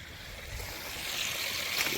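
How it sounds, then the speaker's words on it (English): Water flowing out through a pipe at a dam makes a continuous, loud rushing roar that builds slightly over two seconds, with no voices on top. "Water coming out, so we'll see."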